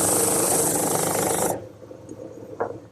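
A drum sander runs against a beveled edge of a wooden pencil-post bed post, giving a loud, steady abrasive hiss for about a second and a half before cutting off, followed by a faint knock.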